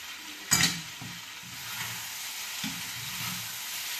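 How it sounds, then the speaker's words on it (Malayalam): Food sizzles in a pan as a lid comes off with a sharp clank, followed by several soft scraping strokes of stirring over a steady background hiss; no voices. "ഒന്നുകൂടി തുറന്ന് ഇളക്കി നോക്കാം"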